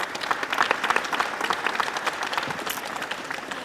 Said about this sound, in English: So a round of applause once again for the Minister for the remarkable work that she's doing